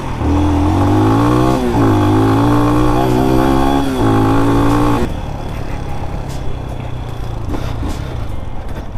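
A Lifan X-Pect enduro motorcycle is ridden off-road, its engine loud and close with rising and falling revs through several gear pulls, then dropping to a rougher, quieter running drone for the last few seconds.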